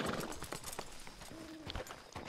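A horse's hooves clip-clop in Red Dead Redemption II as the horse is walked into camp. The uneven, fairly close hoof beats run throughout, with a faint whinny-like tone in the middle.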